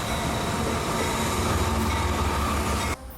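A freight train rolls steadily into a siding at Lacoochee near a grain elevator, heavy low rumble and wheel noise close by for about three seconds before cutting off abruptly.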